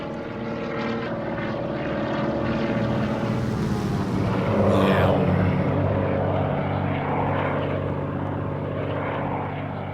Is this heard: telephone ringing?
no